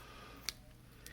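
Scissors snipping the sealed end off a Sally Hansen hand mask packet, a single sharp, quiet cut and a fainter second click, close up in a hushed room.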